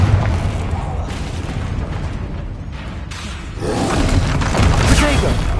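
Confringo fire-blast spell in Hogwarts Legacy, heavy booming blasts over a steady rumble of game sound, growing louder and fuller in the second half.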